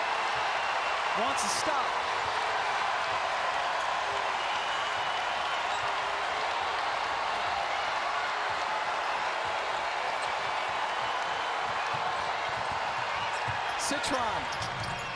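A women's college basketball crowd at a Notre Dame vs. Louisville ACC game roars in a broad, continuous wash of cheering, with sneaker squeaks and a commentator talking over it.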